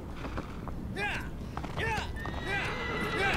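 A horse in the video game Shadow of the Colossus whinnies several times over a background of clip-clopping hooves, with other game sounds underneath.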